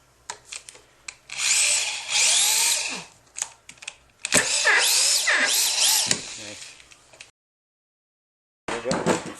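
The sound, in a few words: power drill driving screws into mobile home subfloor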